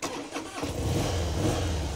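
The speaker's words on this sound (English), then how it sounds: "fire up that huge 1450cc engine" A 2003 Harley-Davidson Dyna Low Rider's 1450cc twin engine cranks over briefly and then catches, settling into a loud, close, deep rumbling idle with no voices over it.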